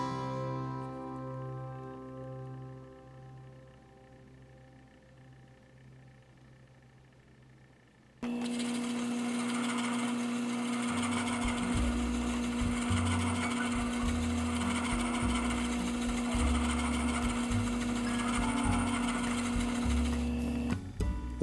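A faceting machine's lap spins up for the final polish on an ametrine gemstone. A quieter motor hum gives way abruptly to a loud, steady whirring drone with a constant tone and a faint rhythmic clatter throughout.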